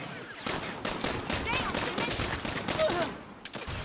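An APC turret firing in Saints Row, heard as a steady stream of rapid, punchy automatic shots in quick succession, loud and close, with a voice faintly underneath before the firing cuts off near the end.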